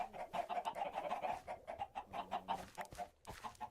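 Chickens clucking repeatedly in a hardcore ocean-only video game, a busy string of close, rhythmic clucks and squawks with brief pauses and no talk.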